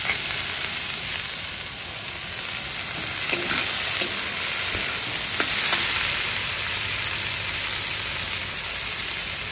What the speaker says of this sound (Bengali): এটা একটু ভালো করে ভাজা হোক